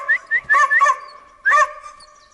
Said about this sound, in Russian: И так будет он лаять.